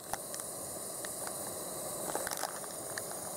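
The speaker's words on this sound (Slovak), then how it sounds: "Už máme horúcu vodu." Water boiling in a pot over a small campfire at an outdoor festival: a steady close hiss of bubbling, with scattered soft crackles and pops and no talking.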